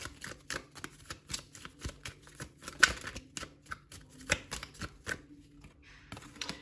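Tarot cards are shuffled by hand during a Taurus reading in a continuous run of crisp, riffling flicks and soft slaps. The sound is close and rhythmic and carries on steadily without talk.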